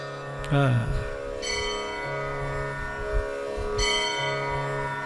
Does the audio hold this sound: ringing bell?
yes